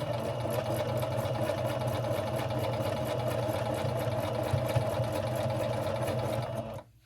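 A sewing machine stitching fabric runs in a fast, even mechanical chatter, close and loud, holding steady before stopping abruptly at the end.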